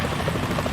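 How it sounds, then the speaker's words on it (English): Helicopter rotor drone from the Metal Gear Solid 2 video game, a steady dense thrum and buzz that holds unbroken and loud through the brief moment, with no talk over it. "Is that a chopper I just heard?"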